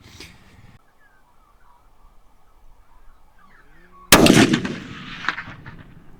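A Browning A-Bolt rifle in .300 Win Mag, loaded with 200-grain ELD-X ammunition, fires a single loud, sharp report outdoors after several seconds of near-quiet, its blast ringing out and decaying over the following second.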